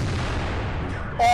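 Tank gun fire from an SU-100 in World of Tanks: a dense, rumbling roar fills the moment, then a sharper ringing burst with a tonal edge cuts in at the very end, loud and close.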